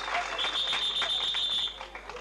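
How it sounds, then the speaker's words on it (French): A steady, shrill whistle held for over a second rises above a noisy, cheering crowd at a Central African Republic fiftieth-anniversary celebration, signalling a dance. "C'est pour la danse, le sifflet."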